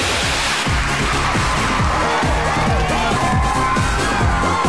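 Studio audience applause and cheering on a Chinese TV dating show, welcoming the hosts Li Bing and Yuan Zhe. A steady, dense wash of clapping sits under a rhythmic musical beat throughout.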